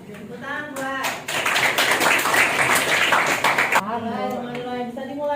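A classroom audience at a sociology teaching session at Universitas Negeri Malang gives a short burst of clapping, a few seconds long, with a voice speaking before and after it.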